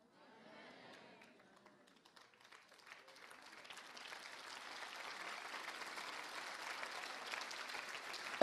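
A congregation at a charismatic church assembly breaks into applause. Faint scattered clapping at first, swelling into steady, fuller crowd applause that grows louder toward the end.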